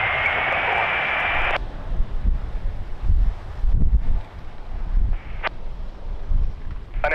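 Strong gusting crosswind at Lisbon Airport buffets the microphone with deep rumbling surges, while a steady aircraft engine roar holds loud at the start, then cuts away, leaving uneven wind blasts and a brief sharp crackle.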